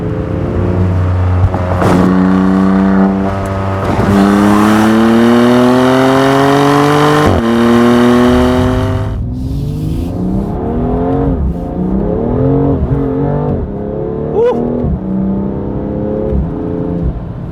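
A BMW F87 M2 Competition engine with full bolt-on modifications revs hard through rising gears, loud and close, its pitch climbing and dropping with each shift before settling into a rumbling burble.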